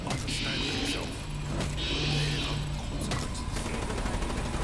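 Sustained gunfire in a Zetsubou No Shima boss battle, a dense rattle of rapid shots with mechanical clatter and bursts of higher noise, loud and continuous throughout.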